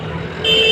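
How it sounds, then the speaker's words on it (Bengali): Roadside traffic beside a horse market in Jaynagar, West Bengal, with engine rumble and a sustained car horn blaring loudly through the second half, close by. "ঠিক রাস্তার পাশে আছি তো অনেক গাড়ি ঘোড়ার সাউন্ড হচ্ছে"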